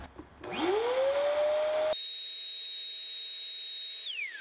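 Shop vac or tire inflator motor spinning up with a rising whine, then switching to a steady high-pitched airy tone as air is forced out through a pushed-open valve, close and continuous.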